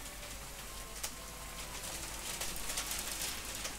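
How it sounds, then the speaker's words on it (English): Hail falls steadily on a truck outdoors, a dense constant patter of small impacts with a few louder isolated hits, fairly near and continuous throughout. "The hail's right big."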